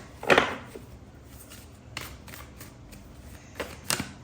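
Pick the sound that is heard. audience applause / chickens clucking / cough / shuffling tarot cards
shuffling tarot cards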